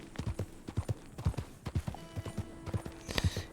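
Horse hooves in the video game Red Dead Redemption 2, a clear, close, steady clip-clop of hoofbeats at a walking pace, heard on their own.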